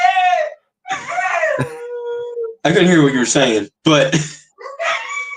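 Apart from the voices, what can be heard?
dog howling and whimpering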